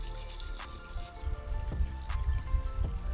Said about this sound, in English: Rinsing it thoroughly, the bike should look immaculate.